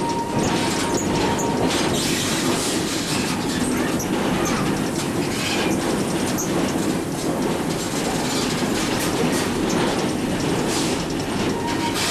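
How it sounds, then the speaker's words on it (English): A Greenfield Village steam train rumbles past nearby with steady clattering wheels and broad roaring noise that holds loud throughout, without any voices. "here comes the train."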